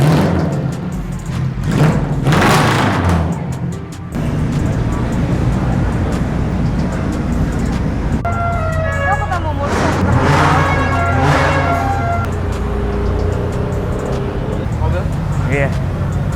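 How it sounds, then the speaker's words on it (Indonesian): Congested road in a traffic jam with cars and buses, engines idling and rolling slowly nearby, a horn-like tone sounding partway through, while people talk over it. "Dan ini lagi macet teman-teman."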